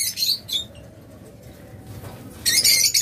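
Blue opaline budgerigars kept in pairs in a cage let out bursts of bright, rapid chirping at the start and the end, with a quieter stretch of faint rustling in between.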